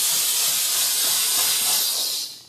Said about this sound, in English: What this does here is put down some high temperature, low pressure steam, and we'll just work it along the grout line there.